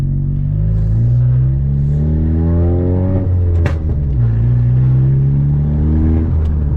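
A 10th-generation Honda Civic Si with an aftermarket intercooler pulls hard through third gear, loud engine pitch climbing steadily as it revs up close, with a brief clatter midway.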